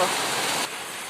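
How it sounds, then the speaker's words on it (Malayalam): Light rain falls in a steady, dense hiss that drops slightly in level partway through the brief stretch. "ഇപ്പോൾ ദേ ഇവിടെ മഴയാട്ടോ"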